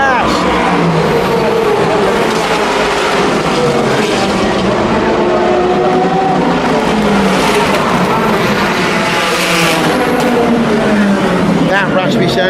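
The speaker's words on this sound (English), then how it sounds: "That raspy sound was the number 67 Ford GT, my Ford GT. It really makes a good noise" Number 67 Ford GT race car roars past with a raspy engine note in slippery race conditions, loud and close, pitch sweeping as it accelerates and passes, with other cars and a commentator's voice underneath.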